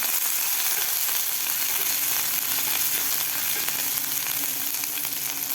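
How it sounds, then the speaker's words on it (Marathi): Green chili, garlic and ginger paste fries in a pan as filling for bread rolls, giving a steady, dense sizzle that holds evenly loud throughout with no voices. "थोडंसं आपल्याला हे वाटण फ्राय करायचं आहे"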